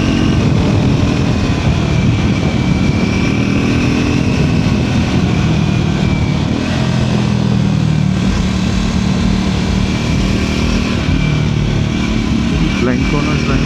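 Triumph Scrambler 400 XC motorcycle engine droning steadily and loudly while riding on a road with blind corners, a continuous close engine note with wind rush throughout.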